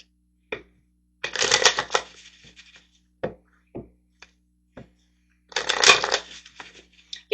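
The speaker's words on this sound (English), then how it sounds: "let's grab some tarot cards over here so we can kind of look and see what else is going on here" Tarot cards shuffled by hand in two brisk riffling bursts, separated by soft taps and handling clicks, close and quiet with no talk.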